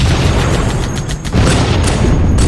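Grenade blast in a video game, a loud booming burst that fills the clip with dense low rumble and crackling debris, with no talk over it.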